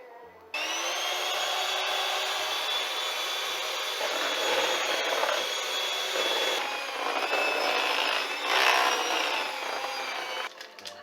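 A blender motor whirs steadily for about ten seconds, a rough, whining buzz that surges slightly partway through before cutting off.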